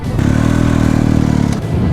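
A BMW 1250 GS Adventure motorcycle climbs a trail, its steady engine drone running loud and close before a brief break, then picking back up in a lower gear.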